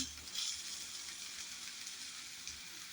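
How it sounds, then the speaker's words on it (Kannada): Brinjal pieces fry in hot oil in a home kitchen pan, giving a steady soft sizzle with faint crackles throughout and no talking. "ಇದರಲ್ಲೇ ನಾನು ಬದನೆಕಾಯಿ ಹಾಕಿ ಎಣ್ಣೆಯಲ್ಲೇ ಸ್ವಲ್ಪ ಹೊತ್ತು ಬೇಯಿಸ್ಕೊಳ್ತೇನೆ."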